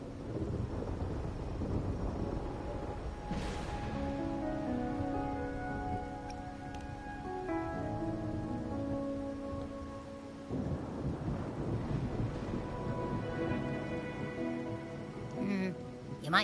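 Stormy weather in the Wuthering Waves video game, with rolling thunder and steady rain under a layer of game music, holding a fairly even loudness throughout.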